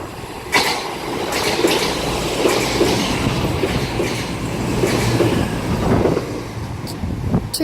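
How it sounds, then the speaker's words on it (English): A cross-country passenger train bound for Bournemouth passing through St Denys station, a loud continuous rumble with rhythmic clickety-clack of wheels over rail joints and a few faint squeals, close and steady throughout. "Now passing through is the 10:39 cross-country service to Bournemouth."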